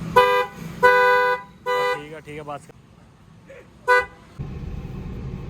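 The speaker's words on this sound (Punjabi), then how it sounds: "ਮਾਰੀ ਹਾਰਨ" A car horn sounds in several loud, close honks: two long blasts, a shorter one, and a final brief toot. Someone speaks briefly between them.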